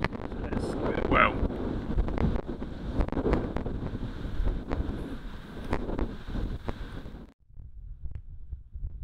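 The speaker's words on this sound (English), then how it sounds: "So it's quite windy" Steady wind buffets the microphone at Portland Bill, Dorset, on the coast, with rumbling gusts and sharp crackles, loud and close, before dropping away abruptly near the end.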